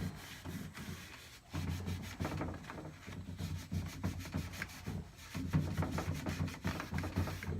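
Close hand sanding on antique wood furniture, quick repeated rasping strokes in bursts with a short pause, no talking.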